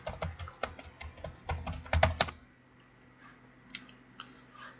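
A computer keyboard being typed on while a password is entered to sign in to Google: a quick, close run of crisp key clicks for about two seconds, then stillness with a few faint taps.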